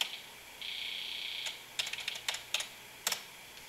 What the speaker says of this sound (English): hit the plus or minus button, in this case minus, until we get down to A1